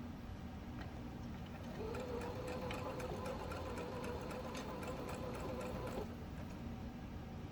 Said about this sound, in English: we're just going to continue to sew until we get the hole closed completely